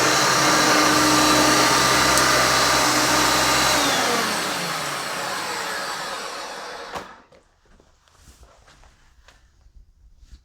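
A Hoover Concept One upright vacuum cleaner runs loud and steady, then winds down over several seconds as the motor spins to a stop, leaving near silence with faint handling noises.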